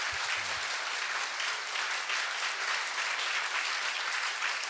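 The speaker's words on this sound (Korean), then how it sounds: "Un aplauso para ellos para que tengan fuerza." Sustained applause from a church congregation cheering off departing pastors, steady and dense throughout, with no talking over it.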